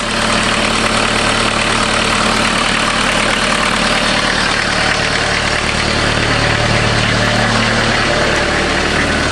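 A steady Volkswagen engine idles close by, a continuous low rumble with constant mechanical hum and vibration, no voices over it.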